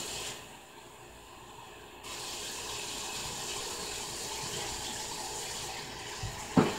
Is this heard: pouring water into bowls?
yes